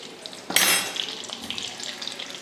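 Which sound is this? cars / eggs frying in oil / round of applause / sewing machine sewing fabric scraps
eggs frying in oil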